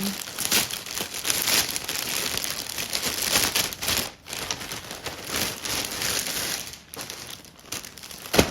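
An Amazon package is torn and crinkled open up close, with continuous rustling and crackling of packaging across the whole stretch and a short pause midway.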